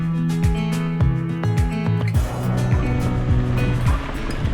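Rushing river water at a cold river crossing in the Eastern Sierras near Death Valley, a loud, continuous broadband wash heard up close with a faint tonal hum and no talking.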